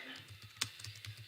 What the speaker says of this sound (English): Here I am typing my organization name